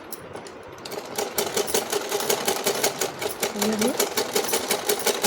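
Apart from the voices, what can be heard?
sewing machine stitching sleeves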